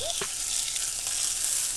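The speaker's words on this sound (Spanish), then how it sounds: "Lo que he hecho ha sido calentar primero la sartén, 2 o 3 minutos, y luego echar el aceite." Sausages for homemade hot dogs sizzle and fry steadily in a thin film of oil in a preheated pan, a close, continuous hiss with a few brief clatters near the start.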